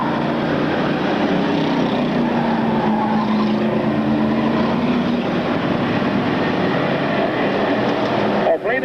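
Street stock race cars roar around an oval track in a twin 75-lap event, the steady, loud engine drone continuous throughout with a commentator talking over it.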